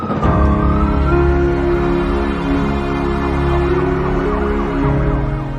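Ambulance siren from a COVID-dedicated ambulance service in Himachal Pradesh, loud and close, a continuous wailing tone rising and falling steadily without any talk.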